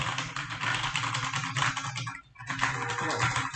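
Steady, continuous typing on a Cosmic Byte GK26 Pandora mechanical keyboard fitted with red switches, a dense run of close, moderately loud key clacks with a brief pause near the end, no talk.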